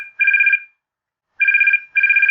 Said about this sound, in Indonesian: telepon genggam Mbah Rogo yang model lama, yang biasanya hanya tergeletak tak berdaya, berdering nyaring memecah keheningan